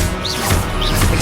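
Confringo blasting spell in Hogwarts Legacy, a dense, loud crackling burst with sweeping whooshes that fills the short moment.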